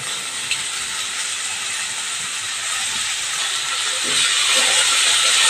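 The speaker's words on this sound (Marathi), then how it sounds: "हिंग घातल्यावर लगेचच फोडणीला टाकायचं," Asafoetida tempering in hot oil for a sprouted horse gram curry gives a steady, close sizzling hiss that holds evenly and swells a little louder toward the end, with no talking.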